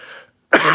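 A single sharp, loud cough bursts out near the mic after some faint voice fading into a moment of silence.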